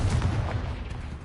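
A Confringo fire spell blasting in Hogwarts Legacy, a short booming burst with rumbling low crackle that fades quickly, heard alone.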